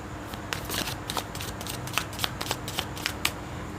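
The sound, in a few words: tarot cards being gathered and shuffled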